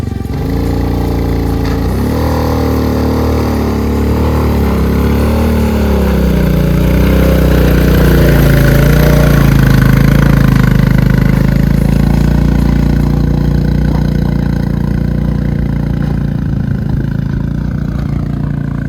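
A vehicle engine drones steadily and loudly on a mountain road toward Om Parvat, its pitch shifting slightly as it labours uphill, continuous and close, with no voices over it.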